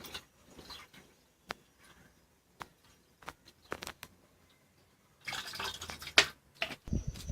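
Cold water trickles and drips over a refrigerant gas bottle while freon is recovered from a split air conditioner: sparse scattered drips at first, then a louder spell of splashing and pouring near the end.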